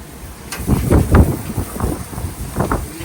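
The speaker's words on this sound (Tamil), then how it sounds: "காற்று" Gusty wind blowing across a back yard during a weekend barbecue, rumbling and buffeting the microphone in loud, uneven bursts with no talking.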